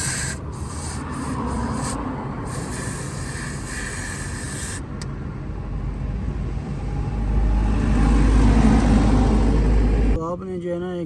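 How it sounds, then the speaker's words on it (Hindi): A running Chevrolet engine idles with a steady low rumble and broadband rasp, swelling louder near the end before cutting off, with a voice briefly at the close. "हमारा इंजन स्टार्ट है।"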